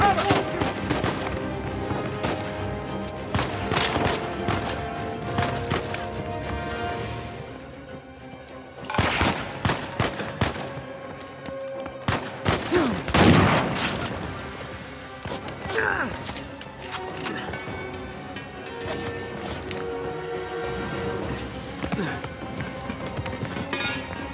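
Gunfire in a ballroom shootout from the video game Uncharted 4: A Thief's End, with dense bursts of shots and loud peaks around the middle over a steady busy game soundscape, voices speaking intermittently.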